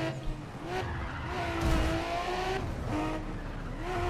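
A tuned Nissan Skyline race car in NFS Pro Street roars steadily at high revs. Engine pitch sweeps up and shifts through gears over about four seconds, with faint tire noise and no talk.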